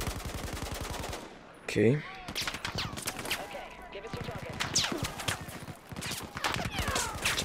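A big gun fires in rapid automatic bursts during a Battlefield 4 match, sharp repeated shots that stop and start while a player talks briefly over the fighting.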